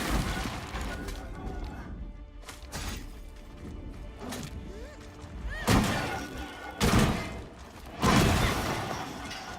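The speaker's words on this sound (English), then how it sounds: "Whoa. Explosion." Explosions in the video game Eternal Strands go off as several loud, broadband bursts and heavy thuds at intervals over a rumbling game soundscape, with no talk over them.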